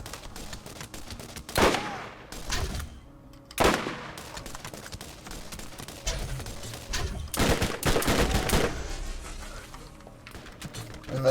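Gunfire in the looter-shooter Borderlands: scattered sharp shots and short bursts at uneven intervals over a noisy game mix, some loud and close, others quieter.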